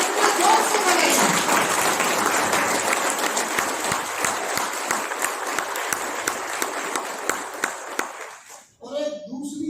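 A large audience claps loudly in welcome at an event in India, sustained dense applause that thins into scattered claps before stopping, with a voice speaking at the end.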